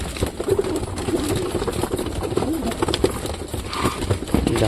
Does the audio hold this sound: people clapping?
no